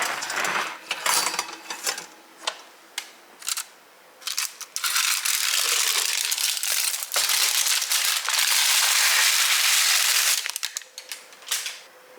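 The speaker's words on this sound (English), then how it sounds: "Just do it by grabbing your parchment paper and taking it out." Parchment paper crinkles and rustles as a freshly baked sourdough loaf is lifted out of the pan, with close, busy bursts of crackling that swell into a long, steady crinkle before tapering off.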